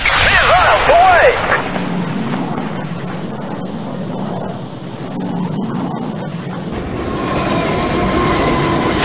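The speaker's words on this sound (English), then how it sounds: "Stop that train!" A train rumbles along the rails in the video game IGI 1, loud and close with a continuous roar, a long high whine and metallic rattling, while a voice speaks over the start.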